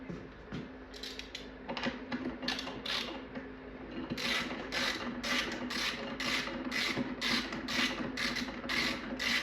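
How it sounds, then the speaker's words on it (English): Rapid ratchet clicks from a socket wrench tightening 7/16 bolts on a Taito arcade cabinet being restored for a Qix conversion, a steady close clicking run that grows denser and more regular through the second half. "Tighten these 2 up."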